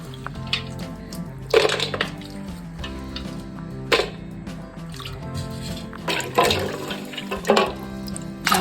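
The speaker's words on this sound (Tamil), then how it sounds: "தண்ணி ஊற்றி நல்லா கழுவி ஒரு பாத்திரத்தில் எடுத்து தனியாக வச்சிடணும்" Nannari roots being rinsed in a vessel of water for sherbet with country sugar, with steady sloshing and splashing, bursts of pouring and dripping recurring every couple of seconds, close and fairly loud with no talk.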